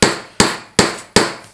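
Four sharp, evenly spaced knocks as a block of wood taps a circlip down into place, each strike close and loud with a short decaying ring, alone with no talking.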